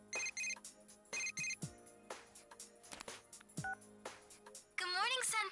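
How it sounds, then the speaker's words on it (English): Inside the video game Persona 4 Golden, a phone rings with a run of short, bright electronic tones and beeps, closing on a warbling ring burst. "we're gonna pick up Risei's phone call in the next episode"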